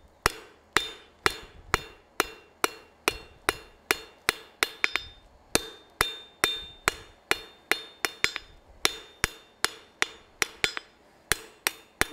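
Steady hammer blows ring out on forged metal as a smith breaks off its sharp corner edges, with about thirty loud, bright, evenly spaced strikes in a brisk rhythm with a short pause midway.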